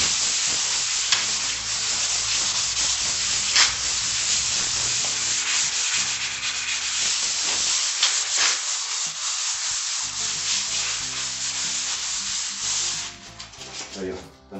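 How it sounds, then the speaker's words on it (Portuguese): Fine sandpaper rubs over an EPS foam ceiling panel in a steady, close, scratchy hiss that runs nearly unbroken with quick stroke-to-stroke pulses and no talking. "Agora eu vou vir com uma lixa fina e vai ficar show de bola essa placa."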